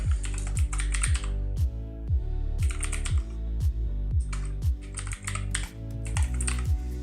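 A name typed on a computer keyboard: a quick, uneven run of crisp key clicks and taps close to the microphone, coming in short bursts with brief pauses, with no voice.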